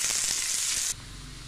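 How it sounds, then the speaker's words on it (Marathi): Chopped onions frying in a pan for egg bhurji give a loud, steady broadband sizzle for about a second, then drop to a softer background hiss. "दोन चिरलेले कांदे, कांदा चांगला लालसर करून घ्या"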